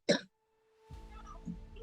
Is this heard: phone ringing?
no